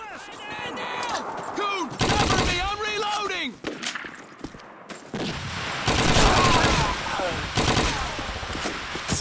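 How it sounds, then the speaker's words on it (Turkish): Automatic and single gunfire in the World War II shooter Call of Duty 2 crackles in dense bursts, with excited voices shouting over the shooting throughout. "Kim atış ediyorsunuz siz?"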